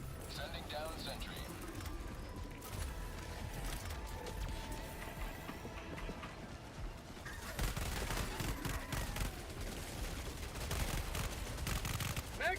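Rapid repeated gunfire from a deployed sentry gun in the video game Helldivers 2 chatters in the background, growing denser and louder partway through, while a voice talks over it.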